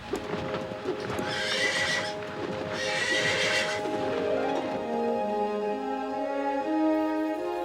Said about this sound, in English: a horse with wings came galloping, neighing wildly